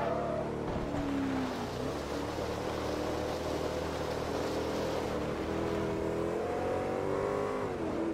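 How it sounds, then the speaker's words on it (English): Bugatti Veyron engines race in the Forza Motorsport 3 video game, a steady, loud drone whose pitch climbs and shifts as the cars accelerate, with no talking. "I've been overtaken by a Bugatti Veyron whilst driving a Bugatti Veyron."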